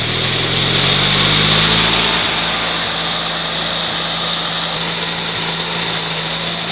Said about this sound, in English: Once it's engaged, then I'll bring the throttle up to full throttle.